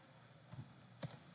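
Several quick, faint clicks of typing on a computer keyboard while entering a material name in CAD software, a few isolated keystrokes spaced over a quiet background.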